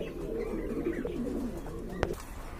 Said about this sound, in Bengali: এখানে কিন্তু খুবই সুন্দর টপ লেভেলের দুইটা কবুতর আছে